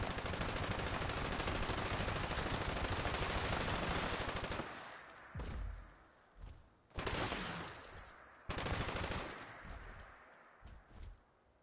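A two-shot explosive MG42 machine gun in Fallout 76 fires a long unbroken burst, then stops and bangs out several separate short bursts and single loud shots with brief gaps between them.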